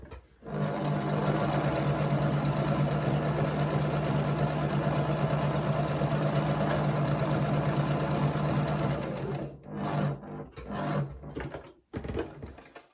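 A sewing machine stitches a buttonhole for a dog bed, running as a loud, steady, close-up whir for about nine seconds before stopping, followed by a few soft handling bumps.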